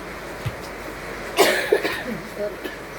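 A single sharp cough around the middle, with a couple of smaller rough bursts after it, close to the mic over a quiet background.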